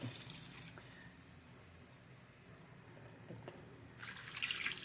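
Water poured into a cooking pot of sautéed chayote with chicken, a steady close trickle and splash that builds louder toward the end over low kitchen background noise.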